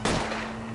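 A single sharp gunshot from the L.A. Noire video game during a police chase, cracking loudly at the start and then fading into a lingering rumble.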